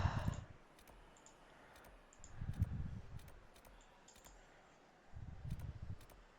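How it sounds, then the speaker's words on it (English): A computer keyboard being pressed, giving sparse, regularly spaced sharp clicks at low level, with soft low rumbling bursts in between and no talking. "Oh Maya, your head is on my keyboard."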